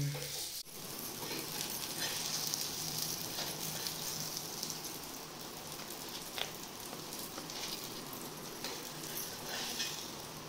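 Seer fish frying on a tawa, a soft steady sizzle with faint crackles, heard from close by at low volume.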